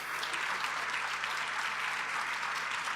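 Audience applauding at a children's spring concert, dense steady clapping from many hands that fills the room without a break.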